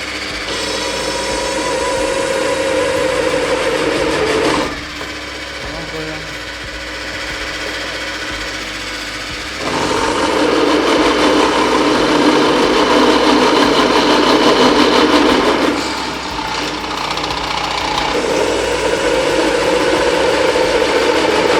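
A Scheppach DP55 benchtop drill press runs steadily and loud, with a clear shift in tone partway through as the bit bites into plastic and then the motor returns to its free-running whine; no talking.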